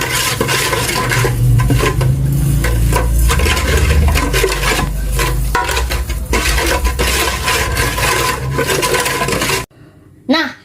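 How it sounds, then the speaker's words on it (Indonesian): A spoon stirs a liquid mixture in a pot until it dissolves, with continuous scraping and clinking against the metal, loud and steady, ending abruptly with a brief quieter pause and a final clatter. "Lalu aduk hingga larut."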